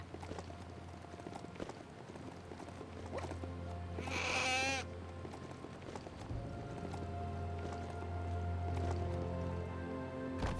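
A goat in the video game Biomutant gives one short wavering bleat over continuous trotting hoofbeats of a mount and a low background hum.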